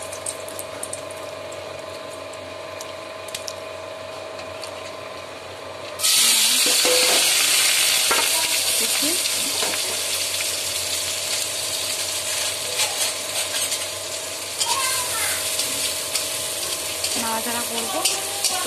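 Dried red chillies hit hot oil for a greens stir-fry. A low hum gives way to a sudden loud, crackling sizzle that carries on to the end, with a few clinks and scrapes.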